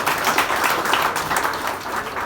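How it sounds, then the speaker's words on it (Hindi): An audience at a Bank of Baroda Holi get-together claps enthusiastically, with the sound arriving in uneven surges of hand claps and a steady crowd wash beneath them, and no talking. "जोरदार तालियां बैंक ऑफ बड़ौदा।"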